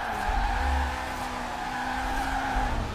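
Car drifting in Forza Horizon 4 with a clutch kick and handbrake: steady engine drone under continuous tire skidding and squeal, loud and sustained for the whole stretch with no talk.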